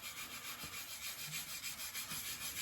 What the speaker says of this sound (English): Now, as I'm sanding, I'm really not trying to sand, like, too hard.